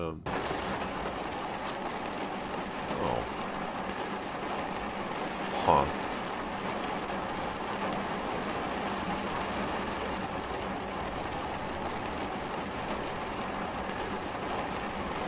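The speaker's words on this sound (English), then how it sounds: "Well, okay, so it's raining." Steady rain hisses continuously over a low truck rumble in Euro Truck Simulator 2, with a couple of brief knocks and clicks, a voice occasionally speaking over it.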